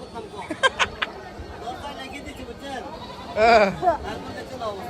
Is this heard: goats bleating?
yes